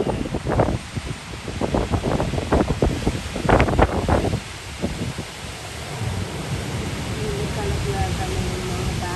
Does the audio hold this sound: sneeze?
no